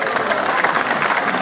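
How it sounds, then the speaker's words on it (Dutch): Crowd applause for the winner at a smoked eel competition, a dense steady patter of many hands clapping at moderate distance, sustained without break. "Ja, applaus voor de"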